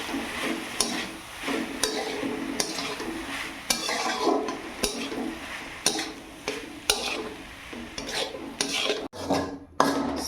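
A spoon stirs green chillies through water spinach greens in a pan, giving repeated scraping clinks against the metal at an irregular rhythm, close and fairly loud, with a soft frying hiss underneath.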